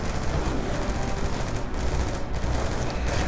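Dense, continuous gunfire and explosions in the video game Call of Duty: Black Ops 2, a steady loud battle din with overlapping bursts throughout and no clear pauses.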